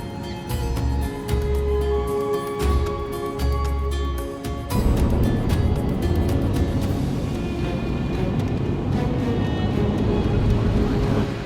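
A 4WD drives along a beach on Fraser Island, its engine droning steadily and close, with a rougher, busier roar of engine and surf noise building after the first few seconds and continuing throughout.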